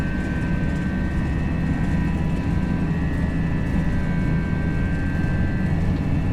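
Airbus A321 engines spooling at takeoff power during the takeoff roll in the FSLabs flight simulator, a loud, steady roar with a constant whine, continuous and close with no talking.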